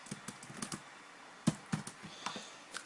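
Typing on a computer keyboard while entering Visual Basic code, a quiet run of irregular key clicks with a couple of sharper, louder taps, close up and with no talking.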